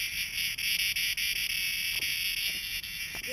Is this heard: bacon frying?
no